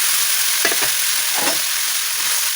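Spices sizzle steadily in hot oil with a bright crackling hiss, plus a couple of soft stirring scrapes.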